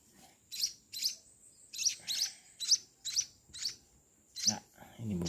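Week-old Eurasian tree sparrow chicks give sharp, high chirps in a quick series of about nine calls, close and clear against a quiet background.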